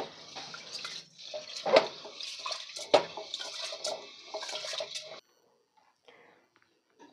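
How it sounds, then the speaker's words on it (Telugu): Basmati rice is washed in a bowl, water splashing and swishing in short bursts with soft clinks, then stopping near the end leaving near silence. "ఇప్పుడు వాటర్ పోసుకొని 1 లేదా 2 సార్లు బాగా వాష్ చేసుకోవాలి."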